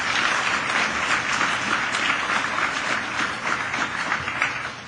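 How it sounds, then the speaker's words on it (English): Steady, dense applause from a conference audience at an opening session, sustained evenly for about five seconds with no voices above it. "I would like to have a big round of applause, please, for Merit and for all the team and everything they've done."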